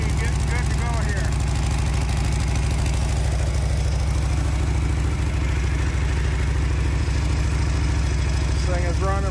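A Harley-Davidson motorcycle engine runs at a steady, loud idle with a low, continuous throb close by, while a voice talks over it.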